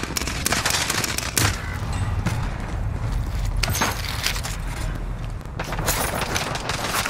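Dense automatic gunfire bursts in Call of Duty on Rebirth Island, steady rapid volleys with sharp cracks throughout, loud and continuous with no talk over them.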